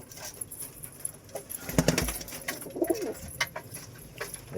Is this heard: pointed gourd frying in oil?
no